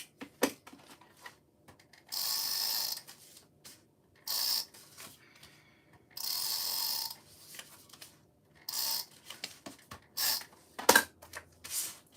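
A corner rounder punching rounded corners on paper for a beginner mini album: several separate, close, crunchy mechanical bursts of about a second each, spaced by quiet pauses, with no talking.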